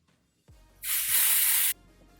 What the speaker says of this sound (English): taking a little bit of hair and then spraying it in there